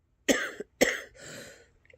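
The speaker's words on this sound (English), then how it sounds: "I keep trying and I keep coughing insanely." Close, harsh coughing: two sharp coughs in quick succession followed by a longer raspy exhale, with no talking.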